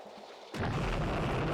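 Enemy warship firing at incoming Harpoon missiles in the naval strategy game Jane's Fleet Command, a sudden loud burst of weapons fire that erupts after a quiet moment and continues as a dense, sustained roar.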